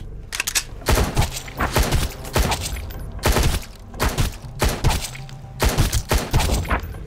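Gunfire from the survival video game Sunkenland comes in rapid bursts of loud, punchy shots, several clusters repeating over seven seconds with short pauses between them.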